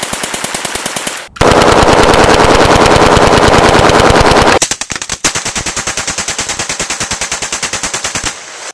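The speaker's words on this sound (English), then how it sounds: "It's a 9mm Sten submachine gun." A 9mm Sten Mk II submachine gun fires long full-auto bursts of very loud, rapid, evenly spaced shots at close range, with brief pauses between strings and no voices.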